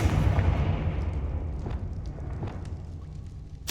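A Confringo spell blast in Hogwarts Legacy, a loud rumbling boom at the start that decays slowly, followed by scattered clatters and a sharp hit at the very end.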